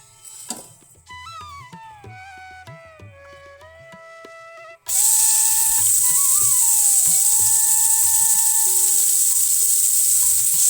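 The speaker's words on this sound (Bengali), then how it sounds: "আমি আবার তেল দিয়ে দিয়েছি আর আমি কালো জিরে ফোড়ন দিয়ে" Nigella seeds tempering in hot oil in a frying pan, used earlier for frying fish: a quiet start with soft tones, then a sudden loud, steady sizzle from midway on, with faint stirring under it.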